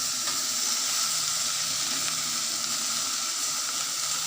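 A bunch of mint and one and a half bunches of coriander leaves frying in a pan for pudina chutney make a continuous, even hiss that stays close and steady, with no one speaking.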